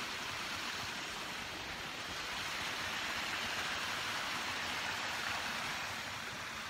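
Water flows in a steady, unbroken wash of noise, a constant even hiss with no breaks or distinct splashes, heard alone without any voices.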